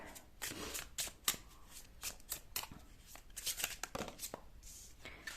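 Tarot cards being shuffled by hand during a pick-a-card reading, a run of quick riffling and sliding bursts with sharp flicks, close and fairly quiet, with no voice over them.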